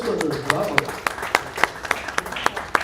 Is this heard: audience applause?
yes